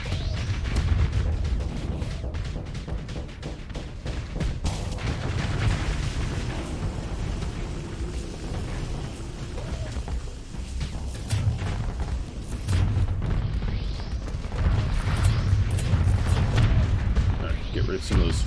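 Torpedo explosions during a space battle in the game Starsector: continuous heavy rumbling booms and blasts rolling over one another, loud and dense throughout, with low thuds swelling near the end and a voice talking over the action.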